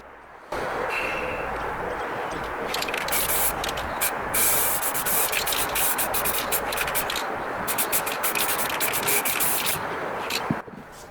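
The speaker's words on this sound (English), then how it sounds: "Just going to get a couple more coats of top coat onto these parts" Aerosol top coat paint sprayed onto rusty motorcycle parts during a restoration, a steady close hiss running for about ten seconds with brief pauses and trigger releases between passes.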